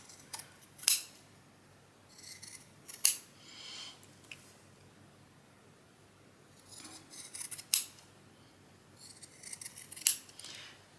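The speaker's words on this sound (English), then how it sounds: "Don't cut it into your stitches." Scissors trim the corners of quilt fabric, giving several sharp, close snips in small clusters separated by quiet pauses.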